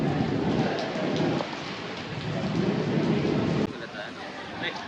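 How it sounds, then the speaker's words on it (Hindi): Heavy rain pours down steadily in a loud, close wash of noise, with a low rumble that may be thunder, heard without any voices. "गाइस बारिश बहुत तेज है"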